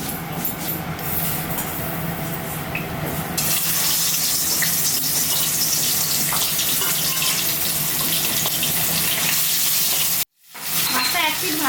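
Hilsa fish rubbed with chili powder fries in hot oil in a kadai, giving a loud, continuous crackling sizzle close by that briefly cuts out near the end before resuming.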